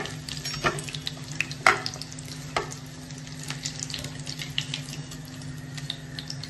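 Mutton chops frying in a pan of oil for a spicy homemade starter, a steady close sizzle with occasional louder crackles and spatters, no voices.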